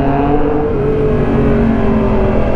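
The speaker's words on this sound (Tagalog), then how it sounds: "Grabe yung ugong ng MT-09 Talagang maugong siya" Yamaha MT-09 motorcycle engine roaring loud and close, a dense continuous drone with shifting tones as the revs change, with no talking over it.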